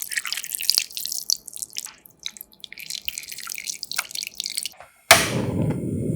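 Diluted flour water (flour whisked into 500 ml of water) poured into the corner of a cooking pot: scattered light drips and small splashes, then a sudden loud steady pour near the end.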